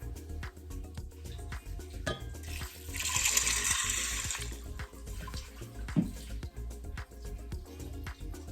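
Water pours and splashes into a cooking pot for a couple of seconds, with clinking and background clatter before and after.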